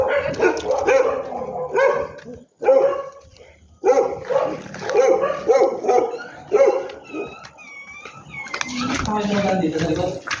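A puppy barks and yips repeatedly in short, high-pitched bursts close by, mixed with whimpers and people talking.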